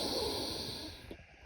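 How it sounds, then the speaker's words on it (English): A person takes a single strong nasal sniff, a close, breathy inhale that tapers off toward the end, heard alone without talk. "we're all about to have a sniff."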